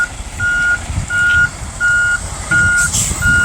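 A big truck turning around gives off loud, evenly spaced reversing beeps, about five steady tones over a low engine rumble close by.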